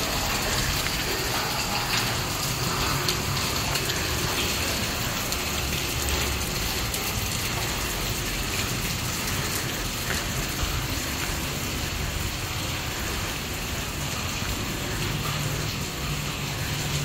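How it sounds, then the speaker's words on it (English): Steady rain pours outside a large old church, heard as a dense, even hiss with splashing and gushing water, continuous and fairly loud, without a break or any voices. "As you can see, it's raining outside."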